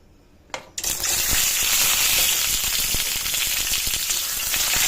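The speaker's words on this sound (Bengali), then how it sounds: "আমি এখানে ডিমগুলোকে একটু সামান্য ভেজে নিচ্ছি, আর দিয়ে দিচ্ছি সামান্য একটু নুন।" Eggs hit hot mustard oil with a sudden crackle, then settle into a loud, steady, close sizzle with scattered pops, salt added in a home kitchen.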